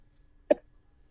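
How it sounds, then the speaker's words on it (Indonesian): A single short cough, sharp and close, against a quiet room background. "maaf ya Bapak masih batuk nih."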